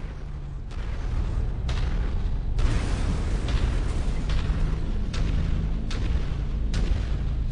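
Booming blasts from destroyed enemy mechs in MechWarrior 5 strike at irregular intervals, a series of loud thuds and explosions over a constant rumbling mechanical background.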